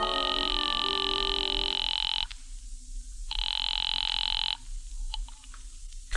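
A telephone rings down the line on a call placed from a phone booth: two long, steady electronic rings separated by a short gap, loud and clear with no voices.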